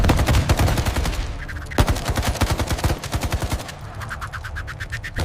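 Heavy machine gun fire in sustained rapid bursts, loud and close, with sharp individual shots cracking through the rattling stream.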